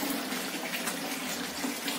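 Water runs steadily from the overflow pipe of a closed-top, low-cost fish tank into an open basin, a continuous, even trickling rush that stays close and unbroken throughout, with no voices.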